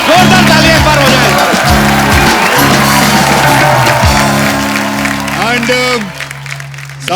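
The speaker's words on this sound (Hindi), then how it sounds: "जोरदार ताली एक बार हो जाए।" Audience applause at a Kapil comedy stage show rises over live instrumental music with a voice singing and speaking, steady and dense for several seconds before thinning near the end.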